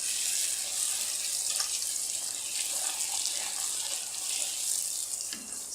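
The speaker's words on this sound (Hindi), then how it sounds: "इतना अच्छा गर्म हो कि जब हम भटूरों को डालें तो वो फूल के ऊपर आ जाए। तो इसको हम डाल देंगे।" Bhatura dough frying in deep, hot oil, a close, steady hiss and bubbling sizzle that holds evenly throughout with small pops on top.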